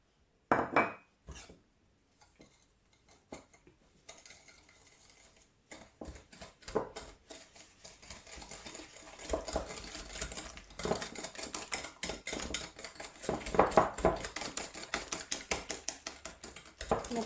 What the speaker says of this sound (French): ce que je vais faire avant tout, donc c'est battre mon œuf avec le sucre